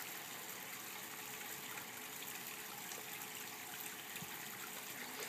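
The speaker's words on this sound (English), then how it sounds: "new front door water feature." Water from a front-entry garden water feature running steadily, a continuous close splashing trickle with no pauses and no voices.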